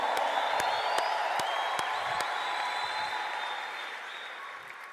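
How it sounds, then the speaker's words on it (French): A church congregation applauds and cheers steadily at a Congolese religious gathering, a dense, loud crowd roar of clapping with scattered whoops, slowly easing over several seconds. "Si tu le crois, fais du bruit avec moi, dis quelque chose, manifeste-toi."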